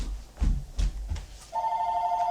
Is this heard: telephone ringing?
yes